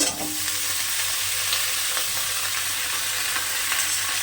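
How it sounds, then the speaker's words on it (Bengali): Snake gourd sizzling in a wok of hot oil with black cumin, green chilli and onion, a steady close frying hiss that runs unbroken throughout with faint stirring clicks and no talk. "কড়াতে চিচিঙ্গা ভাজার জন্য কালো জিরে কাঁচা লঙ্কা পেঁয়াজ ভেজে নিয়েছি এবার চিচিঙ্গাটা দিয়ে দেবো"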